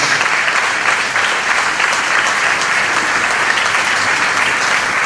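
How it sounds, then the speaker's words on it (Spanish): A church congregation applauds young singers at an Easter Sunday service, a dense, loud, continuous roar of many hands clapping together without pause. "Tendríamos que haberle dado un aplauso a estos jóvenes y a estas hermanas"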